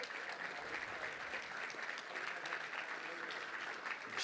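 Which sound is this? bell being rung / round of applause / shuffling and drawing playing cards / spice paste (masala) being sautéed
round of applause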